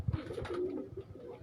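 Breeder pigeons in a Faisalabad breeding setup make a brief stretch of soft, low cooing, fairly faint and close, with a few light rustles and no clear speech.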